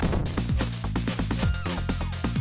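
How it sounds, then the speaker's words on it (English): Punches, hits and enemy grunts from the Sega CD version of the Streets of Rage beat-'em-up, a dense run of sharp, loud impact effects over game music with no pauses. "While they sound like this in the CD version."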